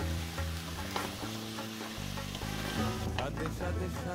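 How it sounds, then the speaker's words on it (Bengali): Drained, soaked chickpeas going into goat mutton frying in a pan, a close, constant sizzle and stirring under a strong backing of soft music. "এবারে ভিজিয়ে পুরোপুরি জল ঝরানো কাবুলি ছোলাগুলো দিয়ে দেব"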